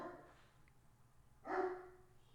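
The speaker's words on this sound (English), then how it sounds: "Sorry for the dog." A pet dog gives two short, faint barks indoors, one at the start and a louder one a moment later, separated by quiet.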